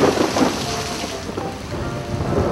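A thunderstorm pours heavy rain, a loud continuous wash of water with low rumbling thunder rolling underneath, with no voices.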